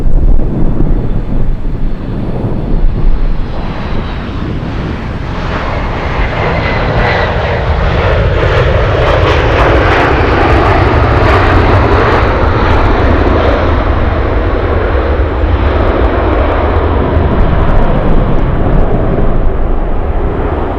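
A Boeing 747 Dreamlifter taxis at Anchorage, its jet engines giving a loud, continuous roar heard from outside, with heavy wind buffeting the microphone throughout.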